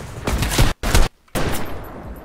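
Rapid video game gunfire rattles out in three loud, close bursts, with a brief silent gap between the second and third.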